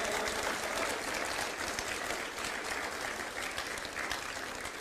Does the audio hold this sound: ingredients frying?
no